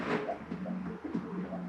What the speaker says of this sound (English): Hello, pigeon.